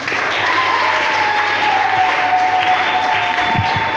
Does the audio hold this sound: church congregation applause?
yes